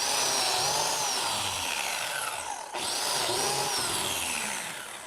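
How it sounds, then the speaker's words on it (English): A biscuit joiner cuts slots into clamped wood for a two-tier bread box, two loud close whining cuts with a rising and falling pitch, separated by a brief dip around the middle. "all I have to do is rest the biscuit joiner on this edge, and I can drive those slots in really easily"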